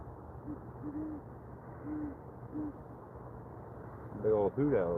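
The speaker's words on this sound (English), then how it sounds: "Big old hoot owl up here somewhere." A big hoot owl calls outdoors with several soft, low hoots spaced about a second apart, faint and distant, before a person starts talking nearby.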